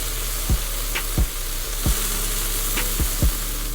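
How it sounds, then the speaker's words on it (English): Sun-dried tomatoes sautéing in a pan give a steady crackling sizzle, punctuated by about six soft thuds and taps of a spoon against the pan, with no speech. "some of these sun-dried tomatoes. Okay, that's about enough. Just let that saute up."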